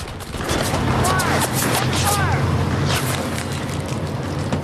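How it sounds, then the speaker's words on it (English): A dense, sustained roar of rapid gunfire crackles continuously, with a low rumbling hum underneath and no clear gaps between shots. "A hail of gunfire tears through the darkness."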